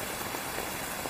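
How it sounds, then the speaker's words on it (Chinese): Heavy rain pours down in a dense, unbroken hiss of drops hitting surfaces, steady and fairly close throughout. "下这么大雨，你怎么来了？"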